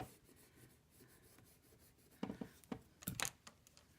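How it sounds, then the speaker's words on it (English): A pen marking a line on quilt binding fabric, faint scratchy strokes close by, ending in a few louder, quick scribbles. "I'm going to mark that line"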